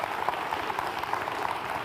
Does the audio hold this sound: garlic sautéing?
no